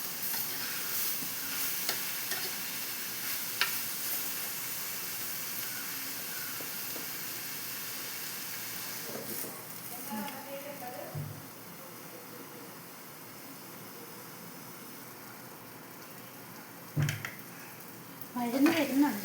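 Tomatoes and spices sizzle steadily in a hot pan for a squid roast, a continuous frying hiss broken by occasional scrapes and clatters of stirring, close and fairly loud.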